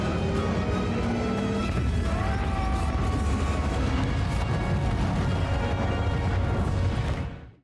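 A pirate cruiser blows up in a sci-fi space battle, a heavy, sustained rumbling roar with booming layers that holds steady before fading away at the end.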